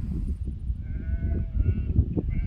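Curious sheep bleat nearby on a farm at feeding time, with a few wavering calls over a busy background of shuffling livestock.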